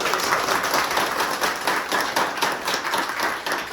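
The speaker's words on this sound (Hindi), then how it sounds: "देखो अपने घर वालों के जोरदार ताली बजाओ" Loud, dense clapping from a roomful of trainees at a mobile phone repair training institute, sustained and even throughout with a crowd-like wash and no talk over it.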